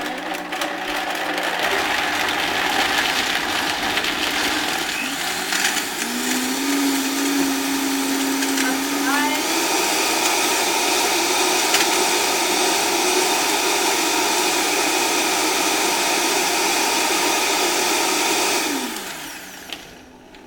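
A Vitamix blender on low variable speed blending nuts runs steadily for about eighteen seconds, a loud, even motorized whir with a brief pitch shift partway through, then winds down at the end.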